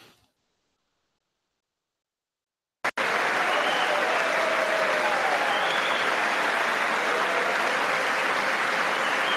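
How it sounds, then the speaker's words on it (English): An audience at the State of the Union stands and applauds, a dense, steady roar of clapping that starts abruptly after near silence and continues unbroken at full strength. "there's lots of people standing and applauding"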